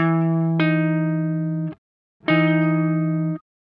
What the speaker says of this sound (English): Here is the major 7th interval.